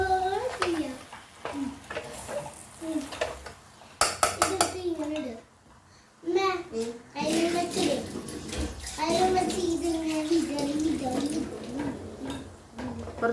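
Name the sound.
water being poured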